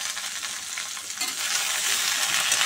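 Vegetables with turmeric frying in a pan, a steady bright sizzle with stirring scrapes, growing slightly louder and denser partway through, close and alone.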